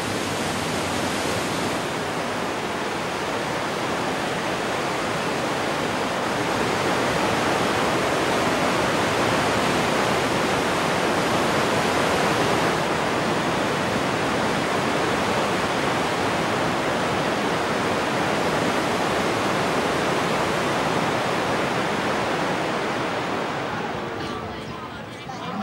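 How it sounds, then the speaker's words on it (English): The Kong Papeng waterfalls on the Mekong River in Laos roar as a dense, loud, unbroken rush of falling water that fills the whole scene and holds steady before easing slightly at the end. "the waterfalls of Kong Papeng, this supposedly impassable natural dam"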